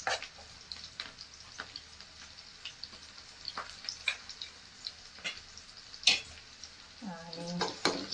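Ginger garlic paste fries in oil in a pan for a bottle gourd and pumpkin seed masala dish, with a soft steady sizzle under scattered spoon scrapes and clinks, ending in a brief rising metallic squeak.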